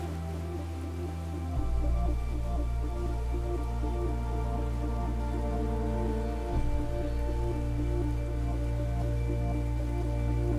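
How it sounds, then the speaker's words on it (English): Artificial rain pours steadily inside the Rain Room installation at MoMA, a dense continuous hiss of water falling on the floor that stays near and loud throughout with a low hum beneath. "we switch the rain off above them"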